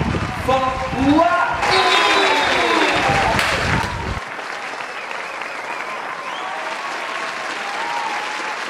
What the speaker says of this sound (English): give a big applause for Wa.